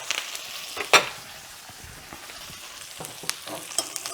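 A NY strip steak sizzles in garlic thyme butter in a cast iron skillet, a steady close frying hiss broken by sharper crackles and a brief spattering burst as it is turned and basted.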